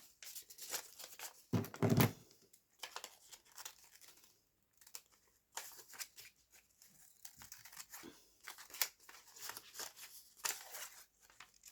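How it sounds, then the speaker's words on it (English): Scissors snip and crinkle paper being trimmed for a small paper rose, intermittent close rustling and cutting bursts with quiet gaps, and no talking. "I can cut it down to shape in a second."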